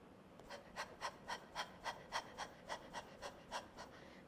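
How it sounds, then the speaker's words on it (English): A person pants rapidly through the open mouth with the tongue out, like a dog, about fourteen quick, even breaths in a steady rhythm, close and soft with no talking. "So basically breathing in and out through your mouth."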